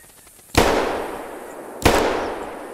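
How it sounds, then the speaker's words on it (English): Two loud, close 16-gauge shotgun blasts fired at geese during a hunt, about a second and a half apart, each a sharp crack trailing into a long decaying echo across open ground. "Two shots, four kills."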